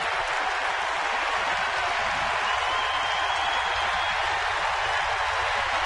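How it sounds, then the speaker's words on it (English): Large baseball stadium crowd at a San Diego versus San Francisco game, a steady roaring wash of cheering and applause holding at an even, loud level throughout. "This is a crowd today that is literally cheering on every pitch."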